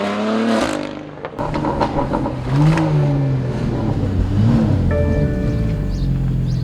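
A BMW G80 M3 engine revs hard and loud, with booming intake and exhaust rising and falling in pitch close by, over a continuous roaring drone.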